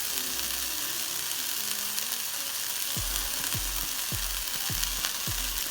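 Zucchini frying in a pan in a home kitchen, a steady close sizzle running throughout with a few brief stirring scrapes toward the end, no voices.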